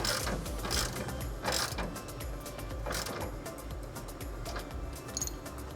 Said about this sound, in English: we're going to go ahead and tighten up the bolts.